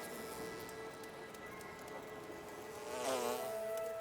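Bees buzz faintly around Aché people working in a Paraguayan forest while they search for honey, a soft steady hum with one nearer, louder buzz passing close by partway through.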